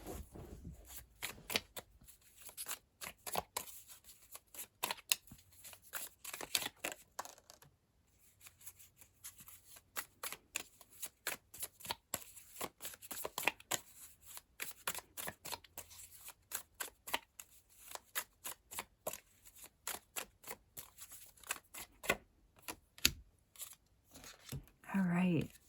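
Tarot cards being shuffled by hand, a long run of quick crisp riffling bursts and card flicks, close and fairly quiet, with short pauses between rounds.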